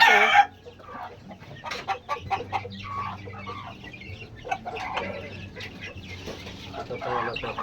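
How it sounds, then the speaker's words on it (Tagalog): Chickens cluck in repeated short bursts at a family gathering for a baptism in the Philippines, with a rooster crowing, nearby birds calling and faint voices in the background. "Ang laki ng manok na to oh"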